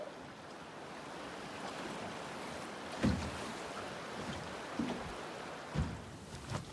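River water washes and laps around a drifting boat on an Alaskan river, a soft continuous rush broken by a few hollow knocks against the hull.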